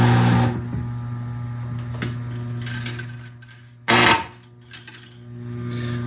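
Electric mechanism of a Lionel toy train cattle car humming steadily and close, a low buzzing drone with faint ticking, interrupted briefly by a sharper clattering rattle midway before the hum resumes.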